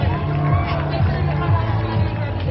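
The crowd at the start of a Ragnar Zion trail race makes a loud, steady murmur of many voices, with a person talking nearby over it.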